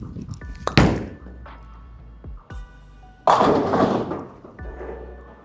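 A Motiv Venom bowling ball on a 42 ft Kegel Chromium oil pattern hits the lane with heavy thuds, rolls, then crashes loudly into the pins, the impacts standing alone with no talk.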